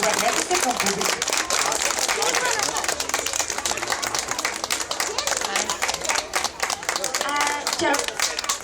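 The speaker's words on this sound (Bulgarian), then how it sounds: "вижте, публиката ви аплодира" An audience claps for costumed children at a kindergarten carnival, a dense run of clapping that continues for the whole stretch while an adult talks over it.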